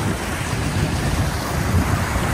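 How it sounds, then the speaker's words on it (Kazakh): Waves wash steadily as people wade through water on an outdoor trip, a continuous broadband surge with wind buffeting the microphone throughout and no voices. "Толқынды көрдіңіздер ма?"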